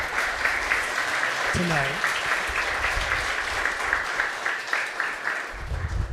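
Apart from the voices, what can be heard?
applause for parent volunteers at board meeting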